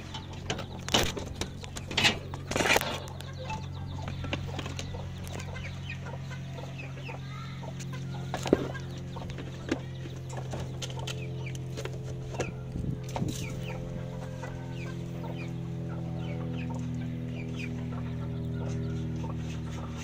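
Chickens cluck steadily up close, several birds overlapping, with soft mechanical scraping and shuffling underneath.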